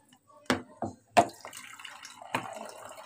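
Tap water in a home kitchen running in short bursts, with a few sharp splashes and gurgles before it settles into a steady, fairly close flow.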